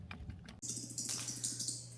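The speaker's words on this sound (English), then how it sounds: "she is doing a lot of picky packing and typing right now" Someone types on a computer keyboard in a home, producing a steady run of quick, close clicks over a low hum and some hissing water-like noise, with a brief thump before the keys.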